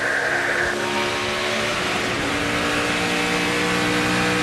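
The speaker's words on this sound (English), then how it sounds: "Hear him hit the rev limiter there as he went from 3rd to 4th" A NASCAR truck engine at Pocono screams at high revs, a loud sustained onboard roar with a brief stutter as it bangs off the rev limiter shifting from third to fourth gear.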